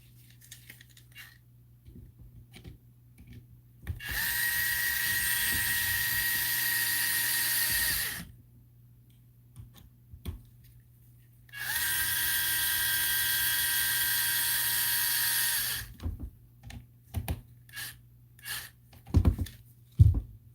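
Power drill driving screws into an RC car, two sustained whirring runs of about four seconds each with steady high whine, separated by quiet pauses and followed by light clicks and handling noises.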